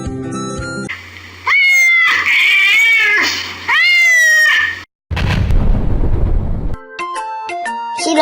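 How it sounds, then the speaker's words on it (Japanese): A cat meowing loudly in a children's animal learning segment, two long wavering yowls close up, followed by a burst of noise and a bright electronic jingle. "猫、"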